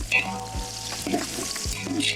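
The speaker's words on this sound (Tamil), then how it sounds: "வெங்காயம் வெந்துருச்சு, அதையும் ஒரு 10 நிமிஷம் வணக்கணும்" Onions and tomatoes sauté in a pan for goat leg soup, a steady soft sizzle with occasional stirring scrapes and clinks over low background noise.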